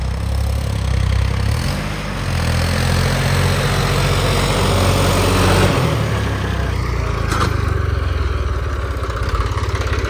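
A John Deere 5310 tractor, upgraded by 25 hp, runs in gear with a loud, steady diesel drone and a deep low rumble held close throughout, slight revving variation midway.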